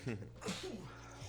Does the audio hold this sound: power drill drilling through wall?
no